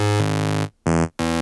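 Deep, buzzy synthesizer bass tones from the Vital synth, oscillators pitched down two octaves, drone low in pitch, one long note followed by two shorter notes separated by brief silences.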